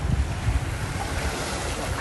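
Steady ocean surf washes along a beach, a dense continuous roar of breaking waves mixed with wind buffeting the microphone, with no voices present.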